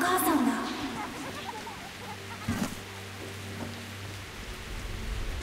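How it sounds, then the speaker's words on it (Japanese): Heavy rain pours steadily in Metro Last Light Redux on PS4, an outdoor park area, a dense continuous hiss filling the whole stretch, with brief voice-like sounds near the start and a low droning hum underneath. "雨がすごい降ってる。"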